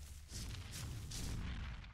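Gunfire from the back of a ridden Rex in ARK: Survival Evolved, a loud, dense run of booming shots rolling almost continuously over two seconds after a brief quiet start.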